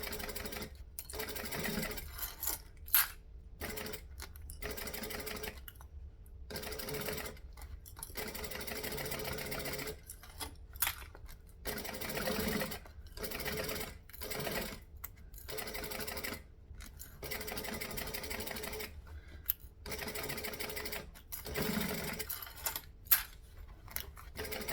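A home sewing machine stitches fabric binding in stop-start bursts, its quiet rapid needle clatter pausing briefly between short runs, close by and alone.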